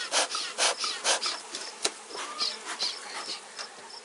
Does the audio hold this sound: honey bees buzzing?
yes